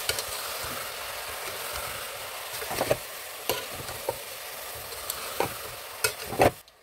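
Cut bottle gourd pieces being stirred in a hot pan, a soft steady sizzle broken by repeated scraping and clinking strokes of the spoon, growing busier toward the end; close up with no voices.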